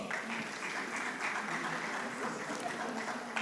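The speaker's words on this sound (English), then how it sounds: "Please, a round of applause for Engineer Dr. Jani Ibrahim" Audience applause at an investor forum, steady dense clapping from a seated crowd lasting the whole stretch, moderately loud and fairly close, with no talk over it.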